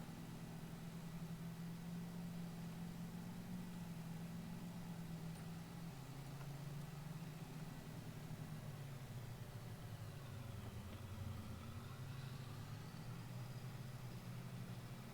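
A pickup truck engine runs steadily while driving into town from the farm, a low continuous drone with slowly shifting pitch, moderately quiet and with no speech.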